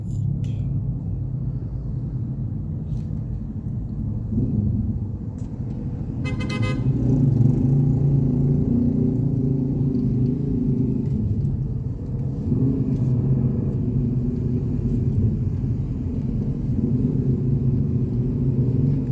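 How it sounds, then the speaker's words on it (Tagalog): Heavy city traffic on the way to the airport, a continuous low rumble of cars with a short horn toot near the middle, steady and fairly close, with no talk. "Sobrang traffic."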